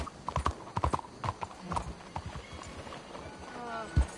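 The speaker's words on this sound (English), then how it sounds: "That's a hell of a horse you got there." Horse hooves clip-clop in a steady walking rhythm, close by, in the video game Red Dead Redemption 2, with faint background murmur and a brief whinny-like tone near the end.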